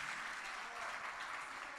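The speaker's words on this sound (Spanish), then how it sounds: "Fuerte ese aplauso para Maite Rojas" Sustained audience applause for singer Maite Rojas at a singing competition semifinal, a steady wash of many hands clapping, fairly faint and distant, with no voice over it.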